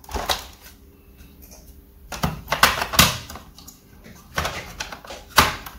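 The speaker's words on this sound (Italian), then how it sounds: "Andiamo a rimontare la batteria." A laptop battery is fitted back in place with a series of plastic clicks and snaps, irregular and close, with a short quiet stretch between them.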